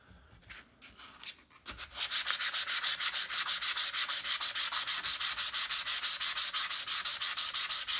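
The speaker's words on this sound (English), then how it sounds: "start removing as much as I can using some 240 grit sandpaper" A wooden guitar body sanded by hand with 240 grit sandpaper: after a few scattered rubs, a steady run of quick, evenly spaced back-and-forth strokes, close and clear.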